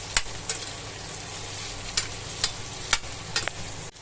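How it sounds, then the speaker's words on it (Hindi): Okra is stirred into frying masala in a pan, a steady soft sizzle broken by a handful of sharp spatula clicks and scrapes, close by with no voices. "अब यहाँ ऐड कर देते हैं हम अपनी भिंडी को, अच्छे से उसको मिक्स कर लेंगे।"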